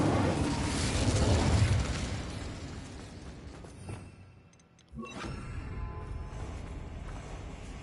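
Incendio fire spell cast in a Harry Potter video game: a loud fiery whoosh that fades over several seconds, followed by a sharp burst and crackling.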